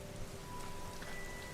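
Steady rain falls in a dense, even patter that is fairly quiet and continuous, with faint sustained tones running underneath.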